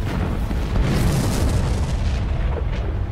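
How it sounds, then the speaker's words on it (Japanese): A loud, rumbling explosion from the Tales of the Abyss sound drama rolls on for several seconds as a dense, continuous roar with no voices over it. "先ほどの揺れ、この爆発、どうやら駆動系をやられたようだ。"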